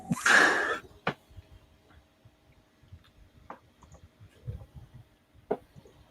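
A computer mouse clicks several times, sharp and isolated ticks spaced irregularly across a quiet room, after an opening burst of louder noise.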